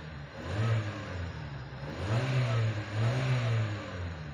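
Honda car engine after an ignition timing service, revving in repeated rising surges from a steady idle, loud and close with no talk.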